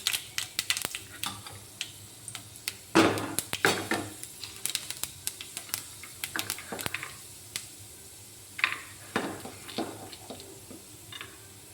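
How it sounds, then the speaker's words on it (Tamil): Mustard seeds and chana dal sizzle and pop in hot oil in a kadai, a steady crackling fry broken by sharp stirring scrapes and clinks of a utensil against the pan, with no voices. "கடாயில் எண்ணெய் ஊற்றி வச்சுருக்கேன். கடுகு போட்டுக்கலாம். கடலைப்பருப்பு போட்டுக்கலாம்."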